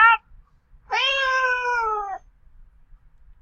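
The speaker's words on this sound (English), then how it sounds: "We have a cat." A domestic cat gives a short meow followed by a longer, drawn-out harmonic meow, close and clear against near silence.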